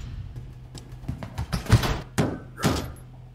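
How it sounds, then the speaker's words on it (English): A few heavy door thuds from a Five Nights at Freddy's-style video game land about half a second apart over a low background hum, with some faint rustling in between. "I'm just gonna keep that door shut"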